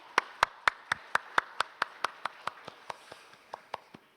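A church congregation at an early-morning new year special prayer meeting claims a steady rhythm of about twenty sharp, even claps. The claps are moderately close and soften slightly toward the end.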